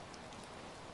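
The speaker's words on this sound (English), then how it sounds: "Rain pelted the roof in urgent staccato." Rain pelts a roof in a steady, dense hiss of drops, constant and fairly soft, with no voices over it.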